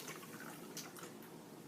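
Half a cup of water poured into a small cup, a soft continuous trickle and splash that holds steady and fairly quiet throughout, with no talking.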